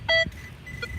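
A metal detector gives a sharp electronic beep, then a second, softer beep follows a moment later, both close and brief against quiet outdoor background.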